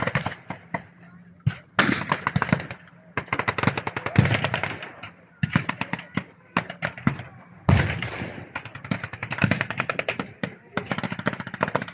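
At a WWII battle reenactment at the Victory Show in Cosby, tanks fire their main guns while turret-mounted 50-cal machine guns rattle in long, rapid bursts, punctuated by sharper loud blasts, with a commentator talking over the gunfire.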